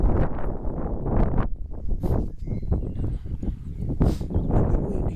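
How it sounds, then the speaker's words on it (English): Outdoor wind buffets the microphone in gusty, low rumbling bursts that carry through the whole stretch, loud and close, with faint background activity beneath it near a harbour area in Ireland. "a little bit windy."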